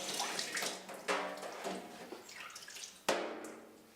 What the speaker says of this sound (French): On nettoie ensuite les graines dans une passoire sous un jet d'eau.